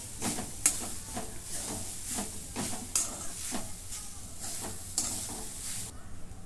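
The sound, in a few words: sautéing ground fresh coconut in a pan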